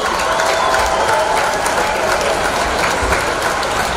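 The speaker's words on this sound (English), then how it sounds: "Please give this year's court a round of applause." Crowd applause at a high school football homecoming game between the Valparaiso Vikings and Crown Point Bulldogs, for the homecoming court: a dense, steady wash of clapping and crowd noise, loud and continuous throughout.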